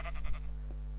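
Sheep in the Minecraft video game give a few short, quick bleats close by and at moderate level, followed by a faint low hum.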